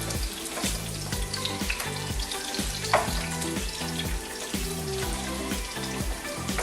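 Carrots frying in hot oil in a pan, a steady close sizzle and crackle running continuously, with a rhythmic music bed underneath and no talking.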